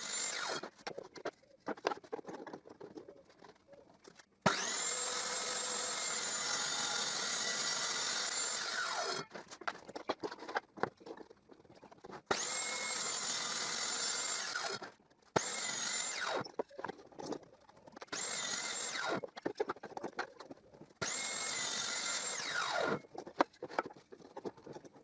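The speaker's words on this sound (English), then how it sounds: "Now I will use this jig to cross-cut the end of the pieces at a 45 degrees angle." A power saw cross-cuts wood pieces at 45 degrees in a jig for a splined miter box, with several long whining cutting bursts and shorter runs separated by quieter handling noises, close and without talk.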